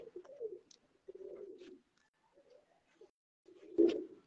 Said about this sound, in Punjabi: ਇਹ ਇੱਕ ਹੋਰ ਕਾਲੇ ਮੂੰਹ ਵਾਲਾ ਗਾੜਾ ਕਬੂਤਰ ਆਇਆ ਜੀ ਦੋਸਤੋ